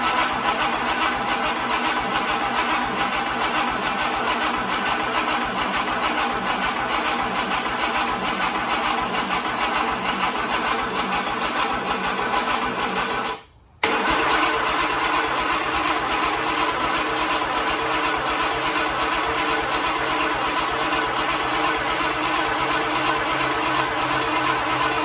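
A rebuilt FJ Holden Grey motor cranks over on its first start attempt, a steady, close mechanical churning that runs for about 25 seconds with one brief cut partway through and no talking.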